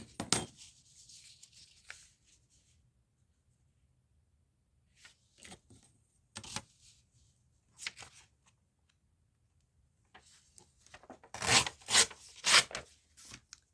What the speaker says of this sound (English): I love the sound of tearing paper.